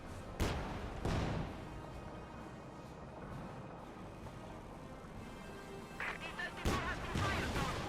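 Battle audio from the Company of Heroes 2 strategy game as anti-infantry fire hits Soviet guardsmen: a muffled din of distant gunfire and heavy booms, with a couple of sharper reports near the start and end.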